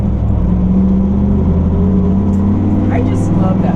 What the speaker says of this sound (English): Spun the tires.